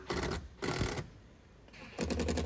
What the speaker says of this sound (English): We went with some self-tappers to secure it to the door.